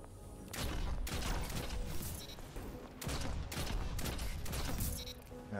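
The Kindled Orchid hand cannon with Explosive Payload fires in Destiny 2, sharp booming shots landing in quick bursts over busy game effects, loud and close.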